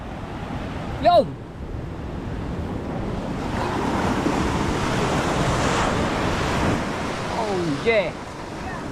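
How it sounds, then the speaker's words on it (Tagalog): Big ocean waves surge with a continuous roar and heavy wind buffeting the microphone, with two short shouted exclamations breaking through over the surf. "Laki ang alon na yung."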